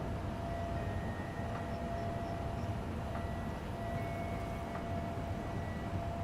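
A train running in the railway simulator SimRail: a steady rumbling roll with a faint tonal hum, continuous and even throughout.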